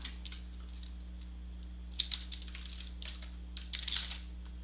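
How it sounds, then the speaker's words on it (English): Soft clicking keystrokes on a computer keyboard come in irregular clusters over a steady low electrical hum, fairly quiet and close. "Apparently I can't type anymore"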